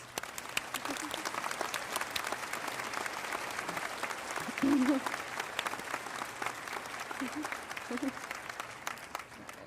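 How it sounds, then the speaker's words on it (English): A round of applause at a speech ceremony, steady crowd clapping that carries on evenly for the whole stretch, with a few louder claps and murmurs standing out near the middle. "Please join me in a round of applause."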